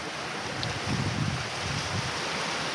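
Ocean waves wash up a beach near Perth, Western Australia, a steady broadband surf roar with soft swells, heard up close with wind buffeting the microphone.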